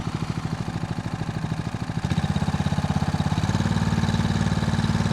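A small homemade outboard engine on a boat idles with a steady low putter, then revs up with throttle around two seconds in, settling into a louder, faster drone.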